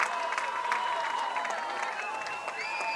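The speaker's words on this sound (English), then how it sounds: "Good hand by this crowd, well deserved." Crowd at a high school football game applauding the home team's victory, steady distant clapping and murmur under an announcer's voice.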